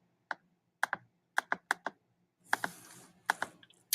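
Computer keyboard keys pressed one at a time in separate sharp clicks, a few quick pairs spread out with pauses, close and crisp against a quiet room.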